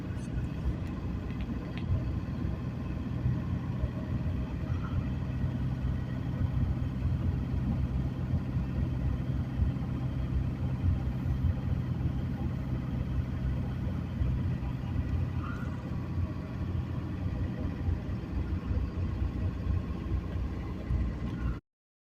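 Camper van driving along a road in Greece, a steady low engine and road rumble heard from inside the cab, continuous throughout, with a voice speaking at times.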